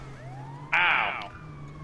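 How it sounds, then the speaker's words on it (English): A video game ambulance siren sweeps briefly and fairly loudly over a quiet background hum, with a short pained exclamation from a player. "But I do have a siren."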